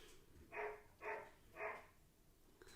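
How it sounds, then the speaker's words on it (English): A dog barks three times at an even pace, fairly faint and somewhat distant against a quiet room background. "Oh my gosh, this dog."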